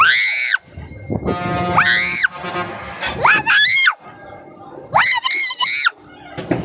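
A child shrieks in high, rising screams during a kangaroo jump ride at SkyRanch Pampanga, several loud bursts separated by short gaps, with an adult voice talking in between.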